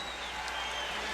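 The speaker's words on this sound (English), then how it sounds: "Crowd trying to get the home club going." A crowd inside the Forum in Inglewood at a 1991 NBA Finals game between the Bulls and Lakers makes a dense, continuous roar of cheering and clapping, sustained and loud throughout.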